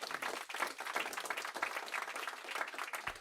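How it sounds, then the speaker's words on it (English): Broad, steady applause from a community audience at a mayoral technology announcement, dense clapping sustained throughout at moderate distance with no speech over it. "let's give yourself a round of applause"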